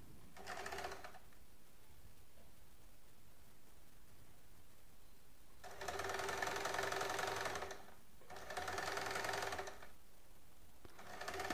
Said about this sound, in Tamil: இப்போ ஹாமுல் அளவு மட்டும் இந்த முனையிலேருந்து இப்படி தைச்சிட்டு வர வேண்டியதுதான்.